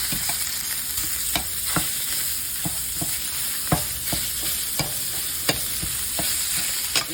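Ground beef fries in a pan, with a steady crackling sizzle and frequent sharp scrapes of a spatula breaking up and stirring the meat at an uneven rhythm, close and fairly loud, no voices.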